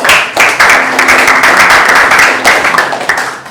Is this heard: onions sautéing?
no